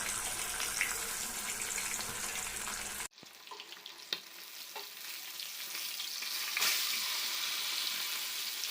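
Pomfret fish frying in a pan on medium flame right after being flipped, a strong sizzle that cuts abruptly, then a quieter steady crackle with occasional scraping and clinks of the spatula.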